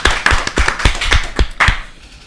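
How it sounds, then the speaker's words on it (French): An improv show audience gives a short burst of clapping, a series of distinct, fairly close handclaps in a loose rhythm that thins out and stops after about two seconds. "On peut l'applaudir un petit peu quand même."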